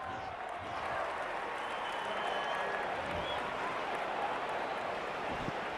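Rugby league stadium crowd during a Storm versus Sea Eagles match, a steady, broad roar of cheering and scattered applause that stays at an even level throughout, with no clear voice standing out.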